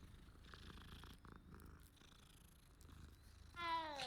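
A patched cat in Hogwarts Legacy purring quietly in a low, continuous rumble, with soft game sounds around it and a brief tonal chime near the end.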